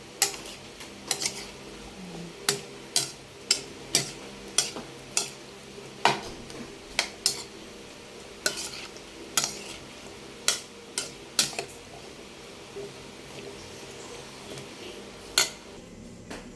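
A utensil stirs salted food with cane vinegar in a pan, scraping and clinking in an irregular rhythm of sharp taps against the metal, close and clear, with a soft sizzle underneath and no talking.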